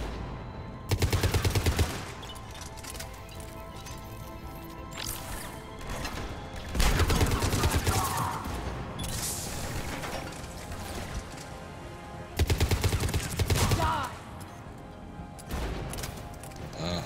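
A turret gun fires in Mass Effect 3 in three loud, rapid automatic bursts, each a second or two long, between stretches of dense battle noise and scattered impacts, with no talk.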